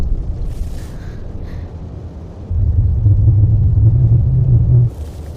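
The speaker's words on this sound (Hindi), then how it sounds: "तूफान आने वाला है।" Thunder from an approaching storm near a graveyard at night in a horror film: a low, heavy rumble that swells loud midway, holds for a couple of seconds, then fades back to a quieter murmur.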